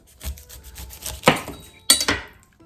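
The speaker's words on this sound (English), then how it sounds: "get a sharp knife and just cut off the bottom" A sharp knife cutting the bottom off a pineapple on a board, with soft sawing scrapes and then two firmer chopping thuds close by, no talk.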